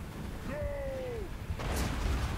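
A cannon fires on chaos warriors with two-handed weapons in a Total War: Warhammer 2 battle of dwarfs against chaos, with a descending whistle followed by a sudden rumbling burst.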